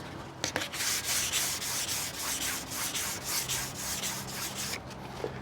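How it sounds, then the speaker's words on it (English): Continuous hand sanding of a motorcycle body panel with a wet abrasive on a sanding block, a steady rasping scrub in repeated back-and-forth strokes, close and fairly loud with no voices. "And then we just get it wet and start sanding."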